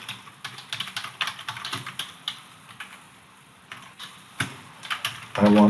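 Code is typed on a computer keyboard in steady bursts of close, crisp keystrokes with short pauses, ending in a brief spoken phrase.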